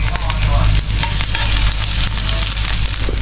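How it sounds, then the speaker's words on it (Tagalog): Garlic sizzles steadily in hot cooking oil, a loud, dense frying hiss that runs without a break, with faint stirring scrapes mixed in. "Tutunawin lang yung mantika para ma-mix yung mga gulay, yung mga ingredients. Bawang. Yan, sisimmer niya yung bawang."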